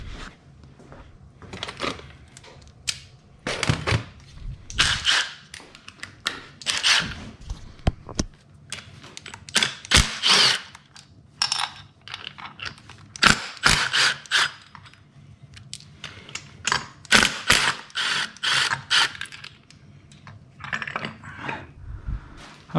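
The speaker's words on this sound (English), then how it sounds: "So we're going to pull the motor mounts off." A wrench works off engine motor mounts on a Cobra Daytona build, with repeated ratcheting clicks and short metallic scrapes in irregular bursts, close and fairly quiet, separated by brief pauses.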